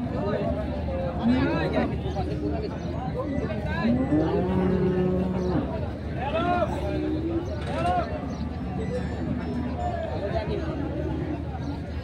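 Cattle at a busy market for big Haryana-breed bullocks and bulls, lowing and mooing in several drawn-out calls over a constant crowd babble, with people talking nearby.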